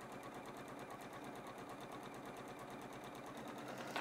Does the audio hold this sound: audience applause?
no